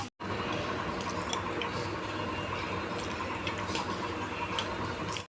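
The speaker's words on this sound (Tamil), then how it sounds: "இப்போ தண்ணி ஊற்றிலாம்" Water poured into a pot of mango pachadi as it cooks: a steady, close splashing rush that runs unbroken for about five seconds, with no talking.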